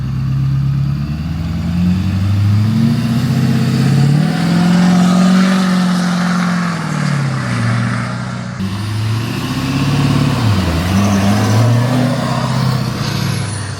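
A 2022 Ford F450 King Ranch truck cruising on the road: a steady, loud engine drone and road rumble, rising and falling gently with speed changes, continuous throughout with no talk.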